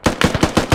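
Gunfire aimed at the player in the Squad military video game: a rapid burst of about six sharp, loud, close shots in a quick, even rhythm, with no talking.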